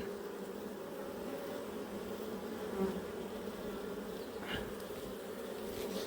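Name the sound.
bees buzzing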